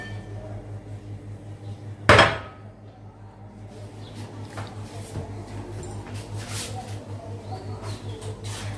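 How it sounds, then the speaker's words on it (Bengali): Cooked milk semai poured by a mother into a dish at home on Eid: one sharp metallic clatter of a pot or utensil against the dish, followed by soft scraping and faint clinks over a low steady hum. "এই যে সেমাই রান্না হয়ে গেছে, আম্মা ঢেলে দিচ্ছে সেমাইটা"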